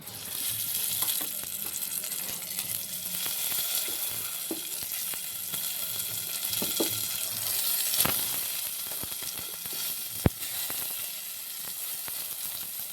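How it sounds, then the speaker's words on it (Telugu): Eggplant pieces frying in hot oil, a steady close sizzle and crackle with occasional stirring clicks and a sharp tap of a utensil against the pan. "మిగిలిన వంకాయలు కూడా వేసుకొని ఫ్రై చేసుకుందాం"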